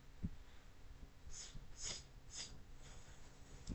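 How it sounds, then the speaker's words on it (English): Soft sniffling, a few quiet nasal sniffs and snorts spaced across a faint, breathy background. "Sorry for the sniffling."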